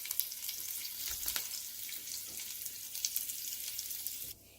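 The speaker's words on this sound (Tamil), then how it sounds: "இது நல்லா பொரியட்டும்" Cashew nuts fry in hot oil with curry leaves and asafoetida for South Indian tomato rice, giving a steady close sizzle with a few brief crackles and stirring taps before it cuts off abruptly near the end.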